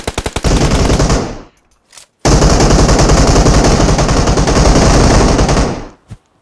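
Automatic weapon fire in the mobile battle-royale game PUBG Mobile: a few quick shots, a pause with one brief burst, then a long sustained, very loud rapid-fire stream that stops abruptly, with no voices.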